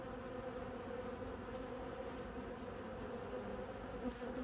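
Steady, droning buzz of many bees and robbing wasps close by at a hive entrance, continuous and even with no voices.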